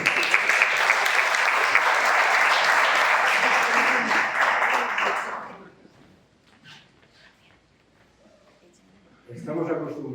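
Audience at a Spanish journal presentation gives a sustained round of applause that fades out after about five seconds, followed by a quiet room and then a voice speaking.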